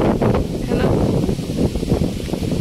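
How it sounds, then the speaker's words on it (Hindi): Wind gusts outdoors on a hillside with mountain views, a steady broadband rush buffeting the microphone with rustling texture throughout and no clear voices. "हवा चल रहा है"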